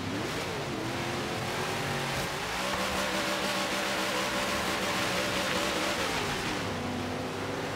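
Car engine in the video game Forza Horizon 3 during a race on a frozen lake in snowy mountains, a loud continuous drone whose pitch dips and rises as the engine labors without accelerating.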